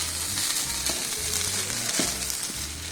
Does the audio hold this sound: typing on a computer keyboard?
no